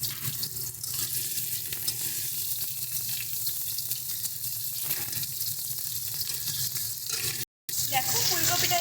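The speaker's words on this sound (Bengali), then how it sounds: "এবার আমরা এই তেলে ফুলকপিটাকেও ভেজে নেব।" Cauliflower pieces fry in hot oil in a pan, giving a steady, crackling sizzle that runs close and continuous, dropping out for a split second near the end before resuming.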